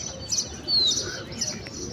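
Pigeons make brief chirping calls close by, with a few short bright notes over a soft outdoor background and no speech.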